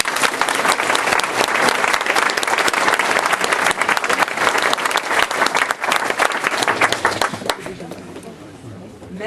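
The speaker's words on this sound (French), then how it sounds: "Je voudrais que vous l'applaudissiez" An audience applauds loudly at a public meeting in Louveciennes, with dense, vigorous clapping from many people sustained for several seconds before tapering off near the end.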